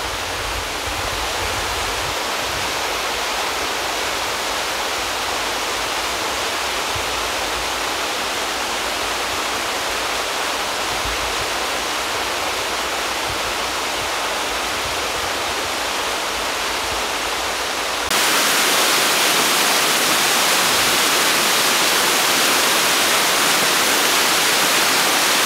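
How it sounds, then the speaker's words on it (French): The Cascade de la Sémine in the Haut Jura, a steady, full rushing roar of falling water that continues without a break and grows slightly brighter and louder toward the end. "Ça fait plaisir cette belle cascade."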